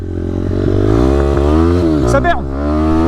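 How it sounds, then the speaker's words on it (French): A small motorcycle engine buzzes loudly close by, its pitch climbing steadily as it revs, with a brief dip and a scraping squeal near the end. "C'est génial les mini-motos."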